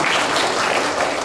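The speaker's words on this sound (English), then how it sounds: "And we'll give a round of applause to Bobby Lee for helping us" A crowd at a festival press conference breaks into a brief, steady round of applause that fills the moment without pause.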